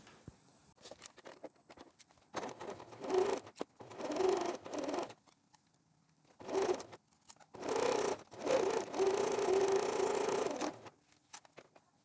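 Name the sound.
sewing machine stitching a bra cup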